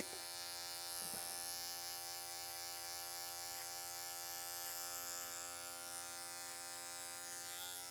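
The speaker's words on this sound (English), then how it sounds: "Trying to lift that hair up so my clipper could really get in there, get to work." Electric hair clipper buzzing steadily as it trims a long, Viking-style beard, a close, continuous motor drone with slight shifts in pitch as the blades work through the hair, no talking.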